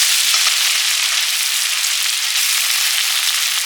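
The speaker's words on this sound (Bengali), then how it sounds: "ফেলে দিলাম পেঁয়াজ রসুন বাটা" Onion and garlic paste fries in a hot pan with a steady, loud, bright sizzle that holds evenly throughout, close up and without voices.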